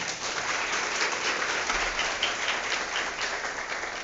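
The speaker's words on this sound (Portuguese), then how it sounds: "Vamos aplaudir a palavra?" A church congregation applauds together during a Catholic renewal service, a steady broad wash of clapping that holds fairly even for a few seconds with no voices on top.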